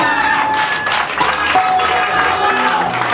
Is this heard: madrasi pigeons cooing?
no